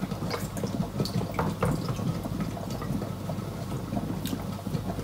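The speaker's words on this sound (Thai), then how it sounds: "เอามาเทน้ำกันเลยนะคะเนาะ" Pickling liquid is poured from a glass into a glass jar packed with apples for a sweet, sour and salty three-flavour pickle, giving a steady close-up watery trickle and splash with no talk over it.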